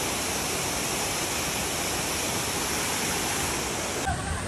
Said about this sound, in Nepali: यो चाहिँ अहिले हाम्रो झरना अलिकति सुकेको भएर त्यस्तो छ